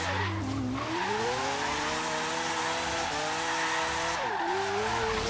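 Tires squeal steadily as a Mazda RX-7 drifts in Forza Horizon 3, with a loud, sustained screech over a rising and falling rotary engine drone and no talking.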